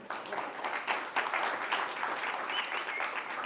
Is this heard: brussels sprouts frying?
no